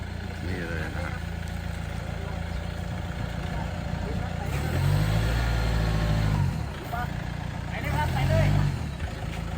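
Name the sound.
Toyota Hilux Vigo Champ pickup reversing into customer's yard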